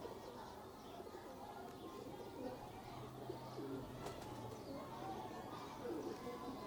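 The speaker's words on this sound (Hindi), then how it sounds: "ये टैडी कबूतर है जी मेरे।" Soft pigeons cooing nearby, low repeated coos over a faint background hum with occasional chirps.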